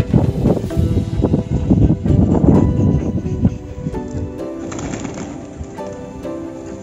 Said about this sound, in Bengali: অলরেডি দেখো চালের বাটি দেখে পায়রা অলরেডি আসা শুরু করে দিয়েছে।